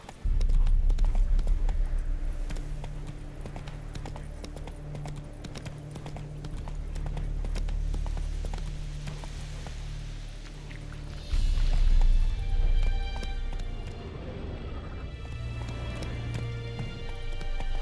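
A game horse gallops steadily on a dirt road, its rapid rhythmic hoofbeats running close and continuous, with surrounding outdoor ambience and a louder surge of movement midway.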